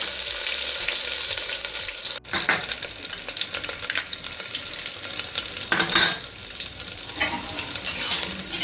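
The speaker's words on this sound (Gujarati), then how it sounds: "હવે આમાં આદુ મરચાંની પેસ્ટ નાખીશું।" Ginger chili paste hits hot oil with mustard seeds, giving a steady crackling sizzle with bursts of stirring and a brief clatter partway through, close and moderately loud with no talking.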